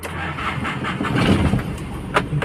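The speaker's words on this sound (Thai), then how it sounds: "เห็นติดแล้วนะ ติดติดเครื่องแล้วนะ" A red-cab Nissan Big-M pickup truck engine cranks and catches, a short burst of starter churning that turns into a rough, close engine running.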